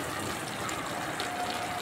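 Water pours steadily into a cooking pan while drumsticks are being prepared, giving a continuous loud gushing splash with no pauses or speech.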